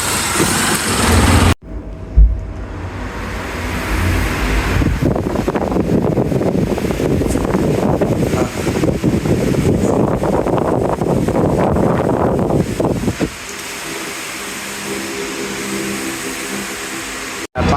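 Strong wind buffets the microphone outdoors by a tree-planted traffic island near Dinajpur Medical College, a loud, steady rumbling roar with engine-like drone running almost the whole time before it drops to a quieter hiss near the end.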